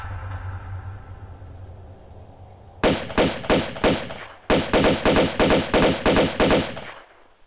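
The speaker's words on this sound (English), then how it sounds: "So, anyway, let's get the pistols out. Kill these barracudas." Pistol gunfire at barracudas in Tomb Raider II remastered: two rapid bursts of sharp, loud shots, about four then nine in quick even rhythm, after a quiet watery ambience.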